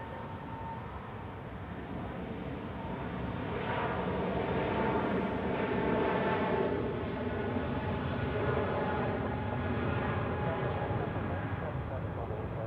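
An Airbus A320neo airliner at Zurich Airport, its engine roar rising and holding as a broad, steady rumble at a distance while a voice talks over it.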